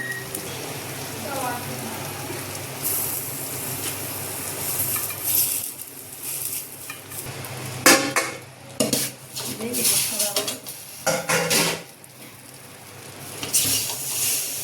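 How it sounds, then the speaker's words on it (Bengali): Fish frying in a pan with banana leaf, turned over amid clattering of utensils against the pan, scraping and soft sizzling, with bursts of louder clinks and rustling. "এখন আমরা মাছটা উল্টাই দেব অন্য পাশ হওয়ার জন্য"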